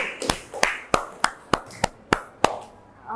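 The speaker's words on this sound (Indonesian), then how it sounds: "Sekali lagi tepuk tangan buat dua kelompok." Sparse, evenly spaced claps from a small classroom audience greeting two student dance groups, about eight sharp hits at a steady rhythm, close and fairly quiet.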